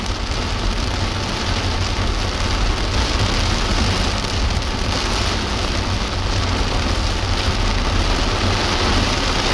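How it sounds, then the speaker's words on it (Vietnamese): Heavy rain pouring outside, a loud, dense, continuous hiss of drops hitting surfaces that stays steady throughout with no voices. "Ngoài trời lúc này mưa đang rất là to."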